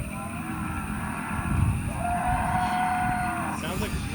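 A long, low moo from cattle in Costa Rica carries across an open space, over the steady whirring hum of an FPV drone.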